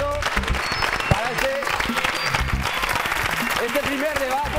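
A studio audience on a TV magazine show claps after a debate, a sustained burst of applause from the crowd with a presenter's voice talking over it throughout.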